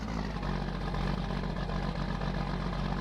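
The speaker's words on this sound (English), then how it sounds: "it sounds like a pretty good tractor." Tractor engine idling in Farming Simulator 19, a steady low rumbling throb with a constant mechanical hum, close and even throughout with no voices.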